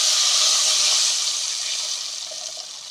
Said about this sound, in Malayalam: ഇതിൻ്റെ അകത്ത് ഈ പുളിവെള്ളം അങ്ങോട്ട് നമ്മൾ അരിച്ച് റെഡിയാക്കി വെച്ചേക്കുന്ന പുളിവെള്ളം